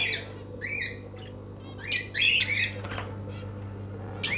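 Lovebirds in a pigeon and bird shop in Purba Medinipur give sharp, chirpy squawks in scattered bursts, with a louder cluster of overlapping calls near the middle over a low steady background hum.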